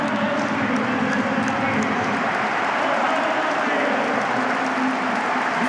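A stadium crowd at a Rapid Vienna football match in Hütteldorf applauds Steffen Hofmann in his last game, a dense, steady wash of clapping and crowd noise that runs throughout without a break.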